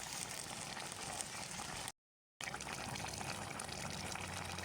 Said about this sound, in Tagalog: Lalagyan na natin ng pangalawang gata